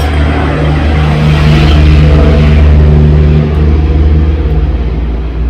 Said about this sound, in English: let me let this truck pass